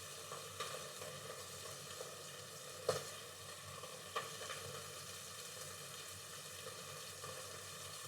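Beef ragu for lasagne cooking on a stove, heard as a faint, steady frying hiss with a few soft stirring knocks scattered through it.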